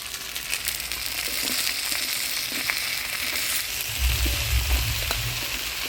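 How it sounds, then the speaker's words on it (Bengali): Bottle gourd frying with ground coriander, cumin, ginger and chilli paste in a pan makes a dense, continuous sizzle, close and fairly loud, with a few soft stirring knocks toward the end. "মশলা দিয়ে লাউটা ভালো করে নাড়াচাড়া করে নিলাম"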